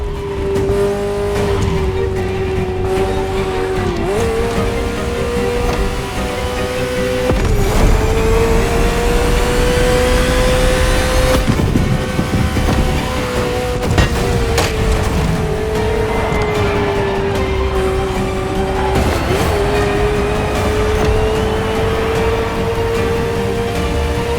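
A Ferrari sports car in the racing game The Crew Motorfest, its engine holding a loud, steady high drone with brief pitch dips at gear changes and occasional tire squeal, close and continuous with no talk.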